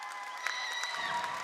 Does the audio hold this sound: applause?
yes